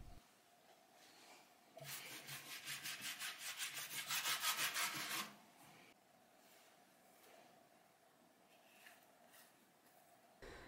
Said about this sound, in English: apply the clear wax liberally before applying the dark wax